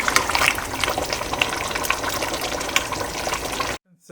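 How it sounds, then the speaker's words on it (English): Water for four cups of rice heating toward a boil on medium-high heat, a dense, steady bubbling hiss close by that cuts off abruptly near the end. "it's been coming to a boil on medium-high heat"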